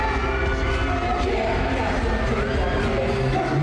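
A packed concert crowd screams and cheers loudly inside the Philippine Sports Stadium, with music playing underneath. The roar is constant and unbroken from start to finish.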